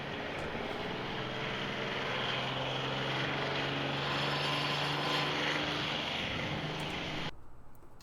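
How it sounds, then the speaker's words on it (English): A Detroit diesel engine drones continuously in the background with a steady low hum and broadband roar, holding even until it drops off abruptly near the end. "It's a Detroit diesel."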